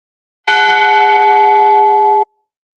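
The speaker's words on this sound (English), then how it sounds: "I want to start by just tolling this bell once." A single strike of a bell, a clear close metallic tone that rings out steadily for nearly two seconds and then stops abruptly, with no voices.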